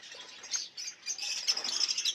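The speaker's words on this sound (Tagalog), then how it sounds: "Sa mga ibon na to." Small caged birds, including Ino and pale fallow lines, chirp and tweet in quick overlapping bursts, high and bright, close by, with a busy continuous chatter and no talking.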